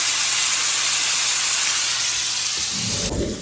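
Steady broadband sizzle of a beef roast searing in a hot pot, loud and continuous like rain, with a lower-pitched bubbling crackle joining near the end.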